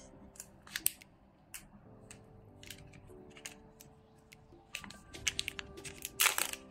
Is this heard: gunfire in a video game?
no